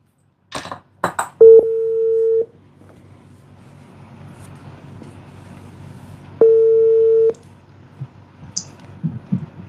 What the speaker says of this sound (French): J'ai appelé Jean-Luc